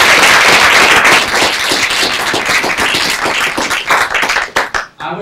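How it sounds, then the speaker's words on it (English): Loud, dense applause from the audience at a university start-up investor pitch final, many hands clapping rapidly and continuously before the sound thins into a few scattered claps and stops near the end. "I'd like to give them a big, big round of applause."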